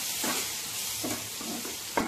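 Ground spices and green chillies fry in hot oil with a steady sizzle, and a spoon scrapes and stirs in a few soft strokes, close up with no talk.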